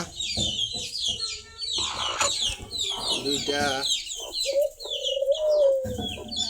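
A hen clucks amid newly hatched ducklings peeping and chirping nearby, busy close calls while a person counts aloud over them.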